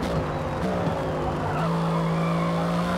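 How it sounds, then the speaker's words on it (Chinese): AMG GT3 race car tires sliding through a final corner in the Forza racing game: a sustained, loud tire squeal over a steady engine drone, continuous throughout with no talk. "在最后一弯有点侧滑"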